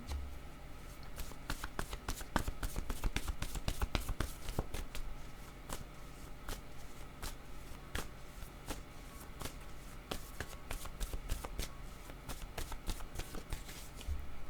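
Tarot cards are shuffled by hand in a quiet room, producing a long run of quick, crisp riffling snaps and flicks at a close, soft level.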